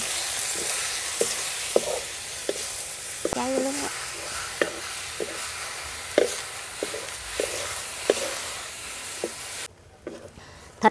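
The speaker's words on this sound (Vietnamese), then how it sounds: "Thịt mình xào cho nó ra nước vậy nè." Marinated pork stir-frying with garlic in a pan for a traditional Vietnamese pork-head sausage, a steady sizzle with repeated sharp scrapes and clinks of a spatula stirring, close and loud.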